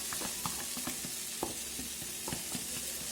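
Fried meat goes into a pan of noodles with soy sauce, giving a low, steady sizzle broken by light clicks and taps of stirring.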